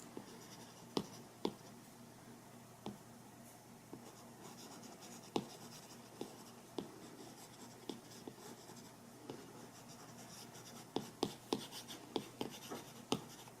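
An Apple Pencil-style stylus colours quickly on an iPad Pro in Procreate, a faint steady scratching with sharp taps and strokes scattered irregularly throughout, close and quiet with no voices.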